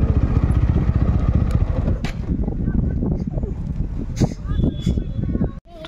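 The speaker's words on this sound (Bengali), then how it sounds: "বাইকটা পার করে দিই" A motorbike rumbles past close by at an outdoor sports match, its engine loud and steady before fading, with crowd noise and scattered talk underneath.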